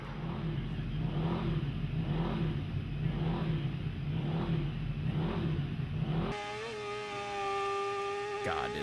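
Isle of Man TT racing motorcycles rev hard with a pulsing, repeated engine roar that ends abruptly, followed by a higher, whining engine tone.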